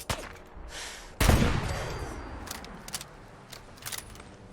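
A single loud gunshot in Fallout 4 cracks and rings out with a long fading tail, followed by a few lighter clicks and pops.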